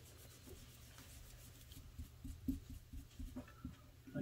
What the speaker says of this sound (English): use that bigger, higher grit sanding paper so when you're doing this, it won't leave, hopefully, too bad of lines